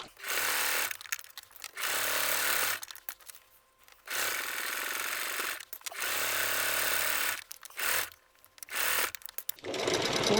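A sewing machine stitches a fabric wheat bag cover in loud, sustained bursts of whirring separated by short pauses, about six runs in all.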